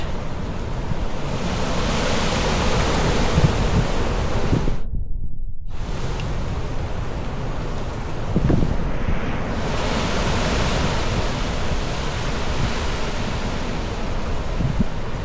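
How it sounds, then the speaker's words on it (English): Storm Eowyn's strong wind blowing through a Scottish town, a loud continuous roaring rush that buffets the microphone, briefly dropping out for a moment before surging back. "as you can hear, there's a lot of wind rumbling around"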